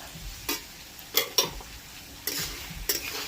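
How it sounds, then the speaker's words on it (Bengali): A spatula stirs mixed fried rice with winter vegetables, shrimp and egg bhurji in a pan, making several separate scraping strokes over a soft sizzle and a few light ticks. "সব দিয়ে একটু নেড়ে নেব"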